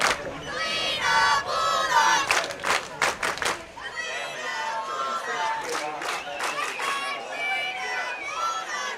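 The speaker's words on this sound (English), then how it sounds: "Our crowd mic's really picking up those Galena cheerleaders" Galena cheerleaders cheering at a high school football game against Girard, a loud, continuous crowd of chanting and shouting voices with rhythmic bursts, picked up by a crowd microphone.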